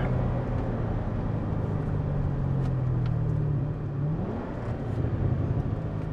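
C6 Corvette with universal valved mufflers, a sustained low engine drone that blips upward in a brief rev-match rise, heard from inside the car over steady road rumble.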